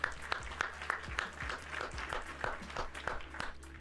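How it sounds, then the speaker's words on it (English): Quiet applause during a live-streamed coding session, a faint run of evenly spaced claps in a steady rhythm over a low background hum. "Big round of applause for you, Rugmat."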